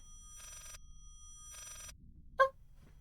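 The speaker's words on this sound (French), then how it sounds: "Attendez, c'est le téléphone." An old-style telephone bell rings inside the horror game Layers of Fear, two short trilling bursts with a pause between, followed by a brief sharp tonal clunk, heard alone over quiet room tone.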